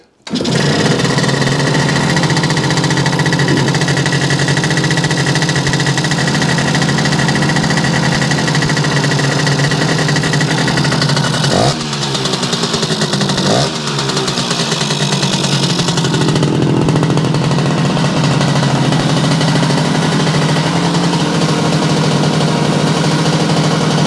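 A Yamaha 100 Trailmaster motorcycle engine runs steadily and loudly throughout, a continuous buzzing idle with a brief stumble midway before settling back into its even drone.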